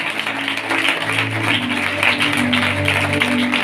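A church congregation at a tent revival gathering claps loudly and steadily, dense sustained applause filling the space with no break, a faint voice or hum underneath.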